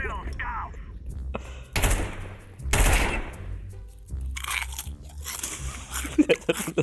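Someone crunches a crisp snack close to the mic, with loud bursts of biting and chewing between stretches of talk in Ukrainian.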